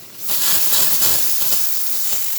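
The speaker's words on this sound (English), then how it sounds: "now that the steam function is ready to go, we're just gonna open the steam wand valve" A Rancilio Silvia single-boiler espresso machine's one-spout steam wand releases a loud, steady, close hiss of steam that starts abruptly and continues throughout.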